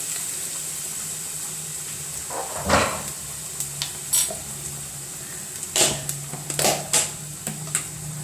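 Food sautéing in a pan during lunch cooking, with a steady low sizzling hiss broken by several sharp clinks and scrapes of a spoon stirring against the metal.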